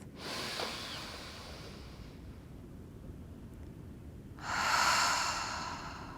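A single person exhales through an open mouth in a long, soft breath, then after a short pause releases a louder, rushing sigh, heard up close in a calm yoga setting with no talking.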